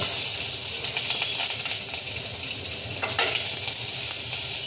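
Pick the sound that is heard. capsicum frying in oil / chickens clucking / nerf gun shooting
capsicum frying in oil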